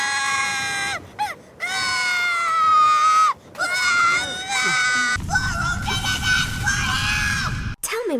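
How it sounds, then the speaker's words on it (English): Maru, a character in the video game Blue Dragon, screams in repeated high-pitched bursts broken by short gaps, then gives one long sustained yell over a rougher background before cutting off. "The only person that really got on my nerves, to be honest, was Maru, just because he would not stop screaming."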